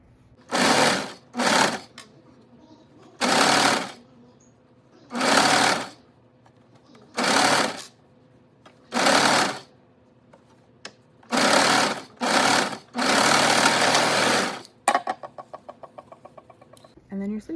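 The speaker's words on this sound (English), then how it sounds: "And then you're just gonna serge around here to attach." Serger stitching a sleeve onto a hoodie, running in a series of loud, close bursts of fast mechanical whirring separated by short pauses, ending in a longer run and a few slow ticks.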